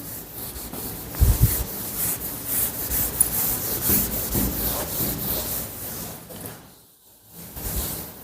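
An eraser rubs a classroom board clean in a run of scraping, rubbing strokes, close and uneven in loudness, ending in a brief pause near the end with no speech.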